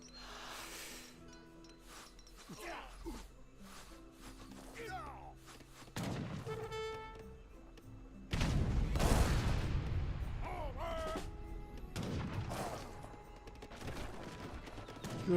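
Culverins and heavy artillery firing in an Age of Empires 3 Definitive Edition match, with booming shots and thuds scattered among battle noise, growing louder and denser toward the end while a voice talks faintly underneath.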